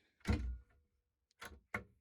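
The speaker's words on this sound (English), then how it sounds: "plenty of cabinets with these nice locking cabinet doors" A locking cabinet door in a Sprinter camper van gives three separate wooden thunks and clicks, one heavier swing-and-shut followed by two quick latch knocks. Each is close and crisp, with quiet pauses between them.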